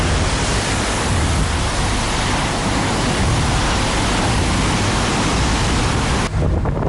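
Cyclone Vardah's roughly 140 km/h winds and pounding sea waves off Chennai, a loud continuous broadband roar of wind and surf with no letup, dropping off sharply right at the end.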